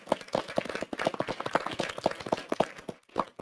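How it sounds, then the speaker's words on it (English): A small crowd at a school board meeting claps in a sparse, uneven patter of distinct hand claps, close and moderately loud, trailing off near the end. "well-deserved round of applause for Mrs. Lucerio for our second Bulldog Award winner"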